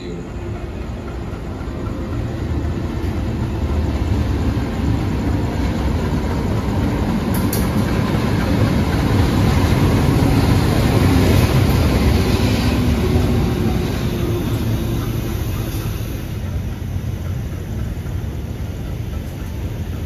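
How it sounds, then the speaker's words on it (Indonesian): A Madiun Jaya regular passenger train rumbles past close by with a dense, broad roar that swells toward the middle and stays heavy to the end, without distinct voices over it. "Tapi kalau ini kereta reguler, kereta Madiun Jaya."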